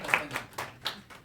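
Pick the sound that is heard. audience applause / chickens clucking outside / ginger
audience applause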